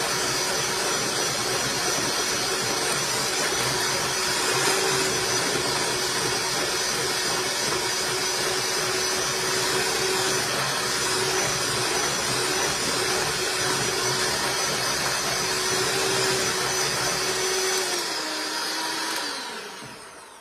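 Electric hand mixer beating pineapple pudding mixture with small pieces of pineapple, a steady loud motor whir with hissy broadband noise running continuously for about nineteen seconds before winding down at the end.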